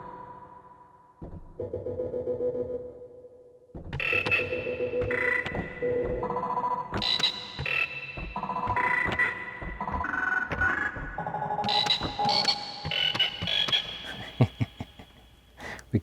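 A Casio LK-240 keyboard plays a sampled frog croak, pitched across a run of short tonal notes that ring out under heavy cave-like reverb, close and moderately loud with no talking.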